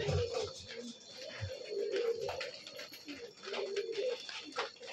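A high-flying pigeon coos in low, repeated throaty phrases, close by, with outdoor background noise and other birds faintly around it.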